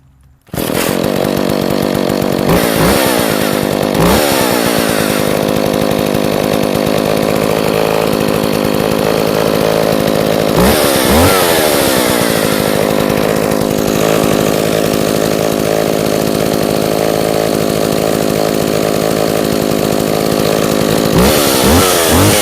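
A smoky-running gas chainsaw idles and revs steadily up close, a loud, sustained two-stroke drone with several throttle blips that rise and fall, and no talking.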